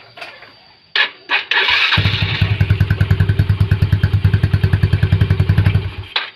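A motorcycle that had become hard to start, after a valve clearance adjustment, starts at close range: a couple of cranking bursts, then the engine catches and settles into a loud, steady, rhythmic idle thump.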